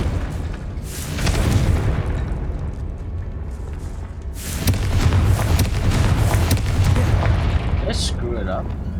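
Confringo blasting spell cast in the Hogwarts Legacy video game, heard as loud booming explosive bursts with crackling debris over a rumbling low background, with one sharp burst near the end.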